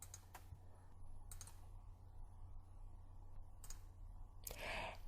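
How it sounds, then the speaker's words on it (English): Four single computer mouse clicks, sharp and evenly spaced, over a low steady hum from the room or computer. "And I'll just click at each corner one time."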